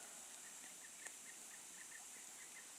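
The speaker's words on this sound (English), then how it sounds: "There was a pileated woodpecker." A faint, distant pileated woodpecker call: a steady series of short, evenly spaced notes repeating through an otherwise quiet, hissy background.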